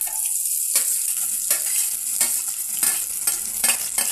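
Cumin and mustard seeds sauté in hot oil in a pan, giving a continuous hissing sizzle with repeated stirring scrapes and small pops at irregular intervals.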